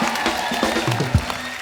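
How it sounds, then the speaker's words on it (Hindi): Studio audience applauding on a comedy talk show in honor of Anna Hazare, a brief burst of dense crowd clapping that fills the room. "एक बार हमारे प्यारे अन्ना जी के लिए जोरदार तालियां।"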